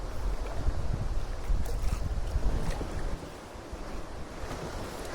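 Rushing rapids near a canoe portage in Algonquin backcountry, a steady broad roar of white water with wind buffeting the microphone, a bit louder at first and easing after about three seconds.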